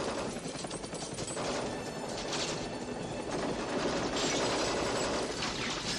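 Action-film gunfire from Lethal Weapon 2, a dense and loud continuous barrage of rapid shots with mechanical clatter that runs unbroken for several seconds, with no voices.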